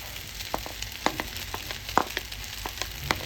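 Egg sizzling in a hot frying pan alongside onion greens, chopped green chilli and tomato sauce, a steady crackling fry with scattered sharp pops, close by and moderately loud, with no voices.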